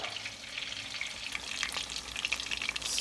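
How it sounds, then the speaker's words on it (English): Turkey cutlets fry in hot oil with a close, steady crackling sizzle, a dense patter of small pops and hisses that grows slightly busier toward the end. "Look at that sizzle."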